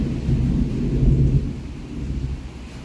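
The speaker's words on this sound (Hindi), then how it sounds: "बाप रे, बड़ी तेज बादल गरजा है।" A loud thunderclap booms and rumbles through pouring rain, swelling in a broad low roar that peaks midway before easing into a lingering grumble under the constant patter.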